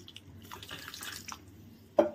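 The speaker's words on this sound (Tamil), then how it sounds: "கொஞ்சம் தண்ணி சேர்த்துக்கலாம்." Tamarind water is poured into a simmering Tamil fish kulambu, giving a soft, brief splashing pour followed by a single sharp drip near the end, with no talk.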